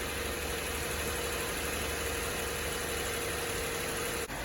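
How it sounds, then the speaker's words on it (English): A Subaru B9 Tribeca engine idles smoothly and steadily, a constant even hum with a faint tonal whine, close by and uninterrupted for the whole stretch. "it is ticking over very nicely and smoothly. It's incredible how smooth this engine is."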